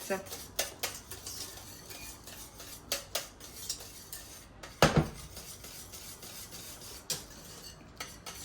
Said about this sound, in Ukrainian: Ще помішую.